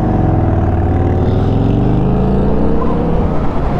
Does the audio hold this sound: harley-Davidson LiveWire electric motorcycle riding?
yes